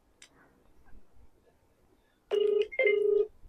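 A phone call's ringback tone sounds twice in two close, loud bursts after a quiet stretch with faint handling noise.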